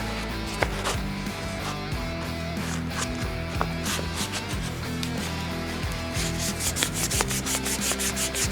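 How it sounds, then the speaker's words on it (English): Steady scratchy rubbing of 320 grit sandpaper by hand on a motorcycle handlebar part, 2023 Harley Road Glide Limited, continuous strokes close up with faint clicks. "Start with the 320 grit."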